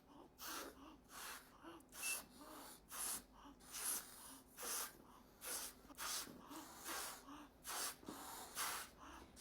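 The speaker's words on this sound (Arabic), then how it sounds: "انفخ البالونات" Someone inflates balloons by mouth with a steady rhythm of forceful breathy blows, each followed by a quick gasping inhale, close and repeated about once a second.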